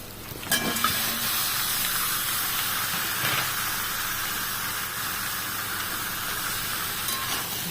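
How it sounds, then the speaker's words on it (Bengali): Country chicken meat frying in a pan with onions already browned in salt and turmeric, a steady loud sizzle with a few stirring clatters near the start. "মাংসটা দিয়ে আমরা একটু ভাজতে লাগলাম"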